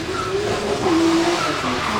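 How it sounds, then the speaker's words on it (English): A pro-am drift car with an RB20 engine revs hard at a qualifying event while its tyres squeal in a long, continuous screech, loud and close with steady engine roar underneath. "I hear him working that car already."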